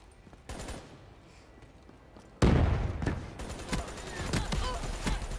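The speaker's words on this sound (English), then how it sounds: "Oh fuck, I'm shooting this rocket down." Bursts of automatic gunfire firing at an incoming rocket in Call of Duty: Black Ops III, quieter shots at first, then a sudden loud surge of rapid fire that keeps going to the end.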